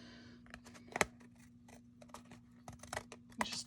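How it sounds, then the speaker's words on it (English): Several crisp snips of scissors cutting, irregularly spaced, close and fairly quiet, with a steady low hum underneath. "I'm going to take a pair of scissors"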